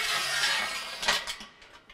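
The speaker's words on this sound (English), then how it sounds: "by removing this tension on this screw, I can change the height" Mechanical clicking and ratcheting as a tension screw on a camcorder mount on casters is loosened to change its height, a short run of small, close, quiet metallic clicks with no talk.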